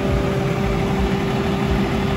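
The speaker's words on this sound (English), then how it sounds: "I never skateboard past the garbage truck" A garbage truck's heavy diesel engine idles on a Manhattan street near Wall Street, a steady, loud low rumble with a constant hum and no break across the clip.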